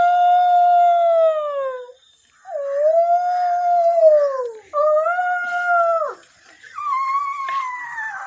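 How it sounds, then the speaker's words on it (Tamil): A fox howls in four long, wavering rising-and-falling calls separated by short pauses, heard alone and fairly close with no other sounds around it. "நரி, ஊளையிடும்"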